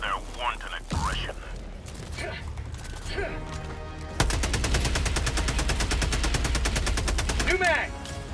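Automatic gunfire in the Helldivers video game against automatons, a dense rapid burst running loud for the second half after sparser shots and game effects earlier, with a game voice talking over it.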